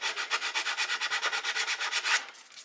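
Rhythmic back-and-forth rasping of an emery board sanding a 3D printed RC car body, about fourteen even strokes at a steady pace, close and clear with no talking, tapering off at the end.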